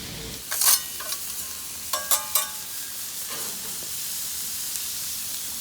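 Shrimp and chicken fried rice stirred on a Blackstone griddle, with a soft steady sizzle and a few brief scraping stirs of a spatula, close and moderately quiet, no voices.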